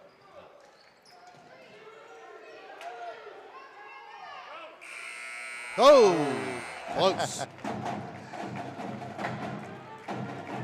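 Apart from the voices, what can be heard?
halftime buzzer at a girls varsity basketball game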